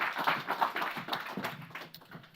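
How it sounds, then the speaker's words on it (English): An audience at a university panel event gives a round of applause, a soft, fairly distant patter of many hands clapping steadily for a couple of seconds. "Give her another round of applause, please."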